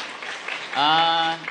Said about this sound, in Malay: Bagi satu tepukan untuk saya punya leaders upline